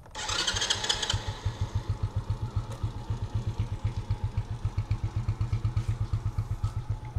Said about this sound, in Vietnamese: Đầu tiên là mình cũng nổ máy cho nó nóng lên trước ha.